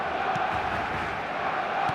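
Crowd cheering in the PES football video game, a dense continuous roar of stadium noise holding steady and loud with faint shouts mixed in, after a Barcelona goal.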